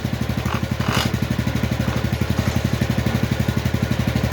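A Neva MB2 walk-behind tractor runs steadily with its main pulley turning, a close, loud rapid engine chug with regular clattering pulses throughout and no talk.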